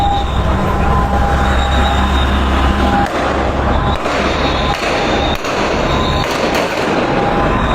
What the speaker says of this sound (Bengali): গুলি চালাচ্ছে